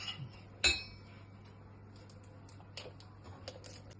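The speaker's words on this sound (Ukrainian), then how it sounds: "Беремо ложку і помішуємо потрошку закипить" A metal spoon stirs oatmeal porridge in a pot, making faint, scattered clinks and taps against the pot over a low steady hum, with no voices.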